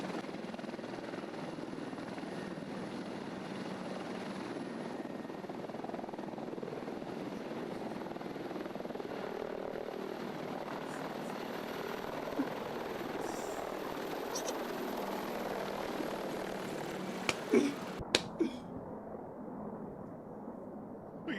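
Russian Mi-28 attack helicopters fly overhead, their rotors and engines forming a steady, continuous whirring drone at moderate distance, with a few faint clicks near the end.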